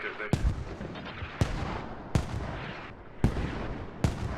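Mortar rounds firing in the military video game Squad: about five heavy, booming blasts spaced roughly a second apart, each with a rumbling tail over continuous battlefield noise.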